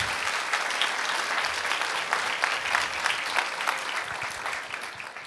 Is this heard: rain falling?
no